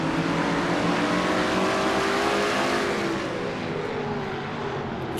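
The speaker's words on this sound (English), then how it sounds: "there's our second in-car camera that rides inside the car of Keith Batson, the Texaco Haviland Ford." Onboard engine of the Texaco Havoline Ford stock car racing at Martinsville, a loud, steady, high-revving roar with continuous close drone and slight pitch shifts, no talk.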